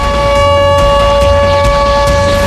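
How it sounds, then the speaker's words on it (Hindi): A loud, steady air raid siren drones continuously over a city in wartime Ukraine, with a strong sustained tone filling the whole stretch and faint rumbling background beneath it. "पूरे शहर में सायरन के शोर से लोग सहमे हुए हैं।"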